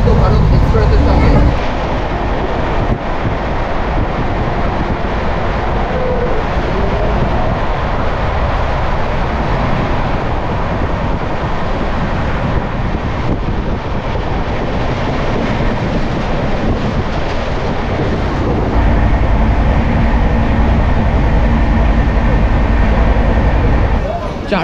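A delayed Amrit Bharat Express from Malda to Bangalore rolls into Uluberia station, a steady loud rumble of wheels and carriages that fills the whole stretch with continuous broadband noise.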